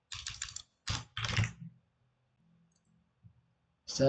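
Typing on a computer keyboard to enter a terminal command, short bursts of close, quiet key clicks separated by pauses, with faint low murmurs between.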